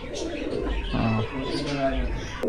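Prince Kamagar pigeons, a breeding pair of Pakistani pigeons in a high-flying loft, give low repeated coos that roll on throughout, mixed with other bird sounds and voices nearby.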